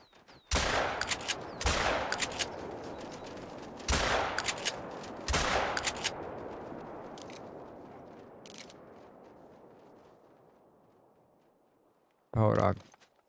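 Gunshots in a pheasant hunting video game: five loud, sharp blasts spread irregularly over about thirteen seconds, each followed by a long, fading echo, with the last shot arriving after a lengthy quiet tail.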